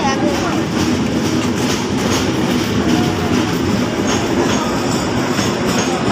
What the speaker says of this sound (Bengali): গাইস চলে গেল লাস্ট বগি।